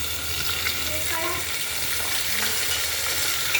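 Tomato and ginger fry in spiced oil for khichdi, giving a steady, close sizzle with light stirring scrapes throughout and no pause.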